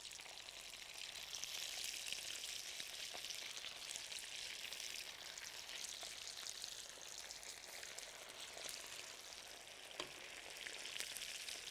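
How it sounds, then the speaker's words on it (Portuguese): Salt cod fritters sizzle steadily in hot oil, a continuous crackling hiss with scattered pops, fairly quiet and without voices. "Este ruído que ouvem na fritura, a fazer barulho"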